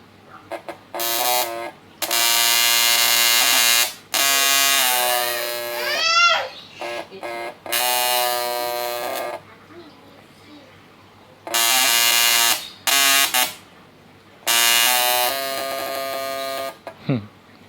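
A homemade MOSFET-modified fish electroshocker module buzzes loudly in repeated harsh bursts of several seconds each as sparks jump from its output, with short gaps and a voice speaking between bursts.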